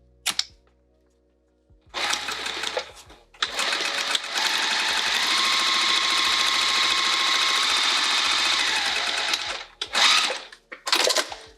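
Sewing machine sewing lining pieces for a sling: after a quiet start, a brief run of stitching, then a long, steady, close motor whir lasting several seconds, ending with short bursts.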